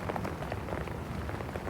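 Steady rain pours in a dense, even patter on surfaces through a quiet night scene in a roleplay setting, alone with no voices and a constant close wash of drops.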